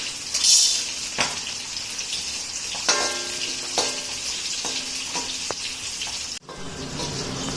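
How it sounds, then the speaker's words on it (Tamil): Roasted gram (pottukadalai) is dry-roasted in a pan, producing a soft sizzle and rustle with light stirring clinks and a few metallic taps, ending in a brief scrape. "இப்போ நம்ம பொட்டுக்கடலை வறுத்துக்கலாம்."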